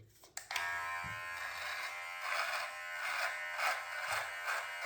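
A USB-C vacuum beard trimmer runs with its vacuum switched off, starting with a click and then holding a steady, close electric buzz that wavers slightly as it moves through beard hair.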